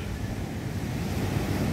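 Sea waves breaking and surging near a small boat, a dense, continuous wash of surf with wind buffeting the microphone, loud and close with no talk.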